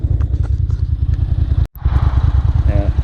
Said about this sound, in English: Then, only then does the engine settle down.